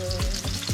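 Steady, close sizzling of onions and garlic frying in a pan, with soft stirring scrapes breaking through at intervals.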